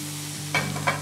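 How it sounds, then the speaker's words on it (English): Onions and garlic paste sauté in a pan under a low steady sizzle, broken by two brief scraping stirs near the end, close up with no voices. "Now I need to saute my onion till it gets nicely pink."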